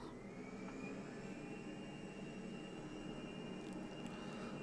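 Simulated jet engines on an Airbus A320 spool up to full throttle during a go-around near St Moritz. A broad, even roar carries a thin whine that climbs gradually, heard faintly and continuously.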